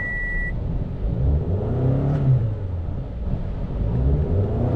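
A 2012 Toyota Camry with an acceleration fault, its engine idling with a low steady rumble that swells slightly as the throttle is pressed, staying close and fairly even without a strong rev.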